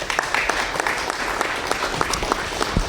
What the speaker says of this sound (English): would you please join me in giving a big round of applause to Officer John Mickelson